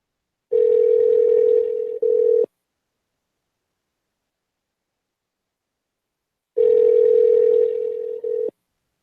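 A telephone ringback tone on a call that goes unanswered: two steady rings of about two seconds each, clear and close, separated by a long silent gap with no voices.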